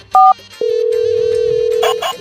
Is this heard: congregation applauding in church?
no